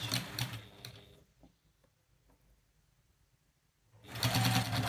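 Home sewing machine back stitching and then running along a quilt binding, loud whirring bursts at the start and end around a quieter stretch of soft clicks and handling.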